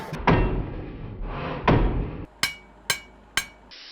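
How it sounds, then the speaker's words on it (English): H13 steel round-bar drift hammered on an anvil: two heavy thuds followed by three sharp ringing metallic strikes at an even pace, close and loud with no talking. "we're going to hammer the drift that we just made through that"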